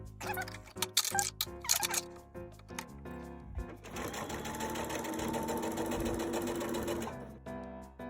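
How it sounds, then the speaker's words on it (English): A sewing machine stitches a zipper onto a ruffled fabric top, starting with a few short stop-start bursts and then running in one steady, close mechanical whir for several seconds before stopping. "I pin the zipper down, and I'm going to sew on this side"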